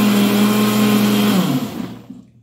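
A kitchen blender or mixer beats carrot with sugar into a cream for muffins. The motor whirs loudly and steadily, its pitch dropping slightly before it winds down and cuts off near the end.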